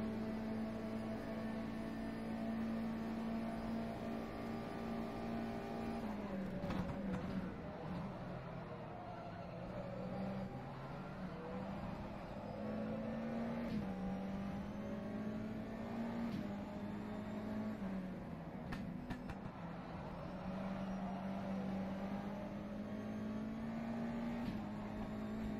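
A USF 2000 open-wheel race car in rFactor 2 sim racing at Indianapolis drones steadily and loud at high revs, its engine note dipping and rising again with gear changes around the lap, with no talk.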